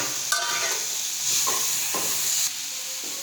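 Tomatoes drop into hot masala with turmeric in a pan, bringing a close, steady sizzle and hiss with brief stirring scrapes and a few clinks, and no talking.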